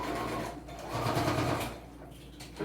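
A sewing machine runs steadily up close while stitching a strap onto a fabric multipurpose travel wallet, its motor whirring continuously and shifting slightly in speed.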